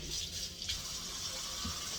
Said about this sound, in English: as I wash them in hot water